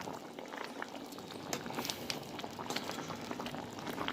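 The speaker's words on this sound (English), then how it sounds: "we're gonna put the fire on low and leave that to simmer down for about 5 minutes" Red peas soup with pork boils in a pot, a close, steady bubbling with irregular pops and gurgles, fairly quiet and with no voices.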